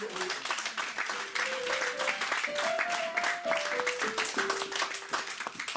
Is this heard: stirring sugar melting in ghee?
no